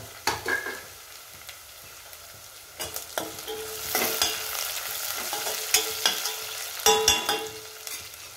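Vegetables and green chilies frying in a pan for a spinach and beans curry, close crackling sizzle broken by repeated stirring scrapes and bursts, with no talking.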